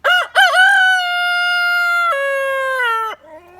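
A rooster crows loud and close by, with a couple of quick clipped notes leading into one long sustained call that drops in pitch near the end and trails off.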